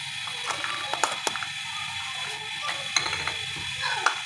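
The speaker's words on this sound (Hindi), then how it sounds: "लहसुन को क्रश करेंगे।" Garlic cloves are crushed for an aloo chicken pulao, giving a series of sharp clicking, crunching knocks at irregular intervals over a quiet background.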